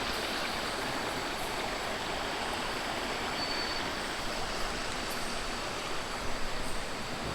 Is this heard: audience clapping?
no